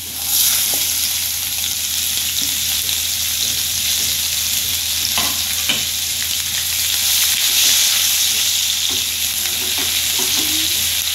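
Chopped onion with cumin seeds and bay leaves frying in hot oil for an egg curry, a steady loud sizzle running throughout with occasional stirring scrapes and no talk.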